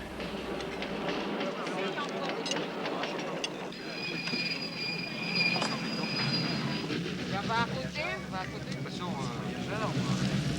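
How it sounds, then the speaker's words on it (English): A descending train rumbling past close by at Pampa de Arrieros, with screeching wheel squeals and rattling, while people chatter in the background. "the caravan pauses to let the descending train pass."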